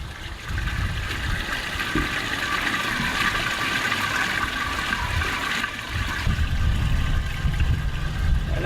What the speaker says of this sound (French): une fois que l'eau noire est vidée, on ouvre l'eau grise